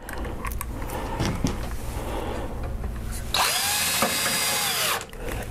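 A power drill drives flathead screws into a T-shirt printer frame, with short whirring bursts giving way to a louder, sustained spin that winds down near the end.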